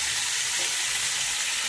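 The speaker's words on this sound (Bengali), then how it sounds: "দুটো মুড়োই ভেজে নেবো একসাথে।" Two fish heads frying together in hot oil, a dense continuous sizzle crackling evenly and close up for a brief moment, with no voices over it.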